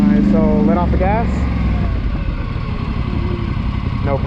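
Polaris Sportsman 850 ATV engine easing off the throttle, a loud close mid-pitched drone that drops and settles into a steady rumble, with a few rising and falling revs and a voice heard briefly near the start.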